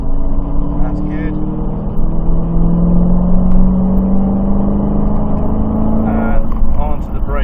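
A Dodge Challenger Hellcat accelerates, its engine droning loudly with a steadily rising pitch before it eases off near the end, while someone talks over the engine from inside the car.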